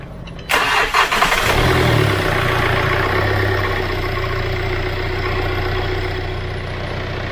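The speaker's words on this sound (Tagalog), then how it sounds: "So turn on natin ang engine, tingnan natin kung may nagbago sa RPM niya." A Hyundai Accent CRDi diesel engine cranks and catches after a short quiet lead-in, then settles into a steady, loud, close idle with a low rumbling drone that holds to the end.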